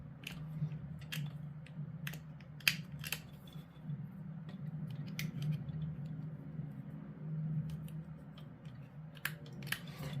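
Sprue cutters snip plastic miniature parts free from the sprue during model kit assembly, giving sharp, repeated clicks at irregular intervals over a steady low hum of room noise.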